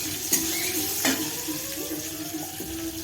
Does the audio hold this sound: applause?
no